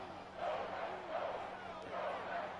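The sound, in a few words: crowd chanting in Madden 24 football video game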